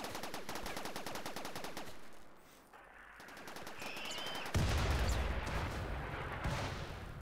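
Rapid gunfire in the colony-building game RimWorld, strings of fast repeated shots with a short lull, then a louder burst of heavier blasts and continued firing, fairly faint overall.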